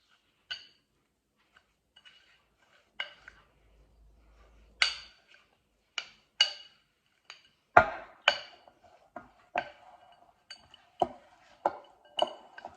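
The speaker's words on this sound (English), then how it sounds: "Mine's starting to get really, really tricky to stir now." A spoon works through a thick Oreo and cream cheese truffle mixture in a bowl, knocking against the sides in a string of sharp, separate clinks and taps that grow more frequent and heavier toward the end.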